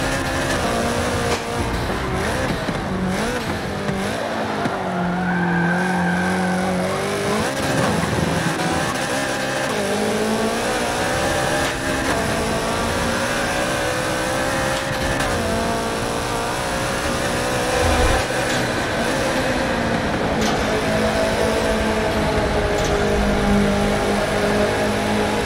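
A Subaru BRZ race car in the Forza Motorsport video game, racing through Rio de Janeiro, gives a continuous engine note that climbs and drops with revving and gear changes, steady and prominent throughout.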